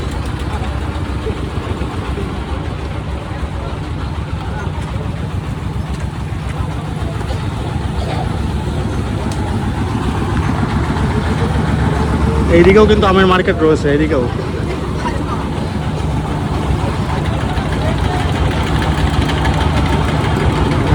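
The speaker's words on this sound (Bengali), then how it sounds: "রাস্তা পুরো জ্যাম হয়ে গেছে শুধু আমের গাড়িতে" Vehicles loaded with mangoes sit idling in a jammed road at a large, busy mango market in West Bengal, a steady low engine rumble running throughout beneath continuous talk.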